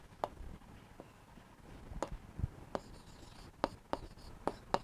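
Marker or chalk scratching on a classroom board during a biology lesson, heard as a series of sharp, separate strokes spread across the clip with quiet gaps between, close by and fairly soft.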